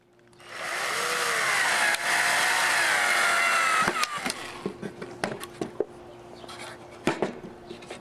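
A power drill fastening the wooden sides and bottom of a box whines steadily for a few seconds, then gives way to a series of sharp knocks and clunks of handling wood.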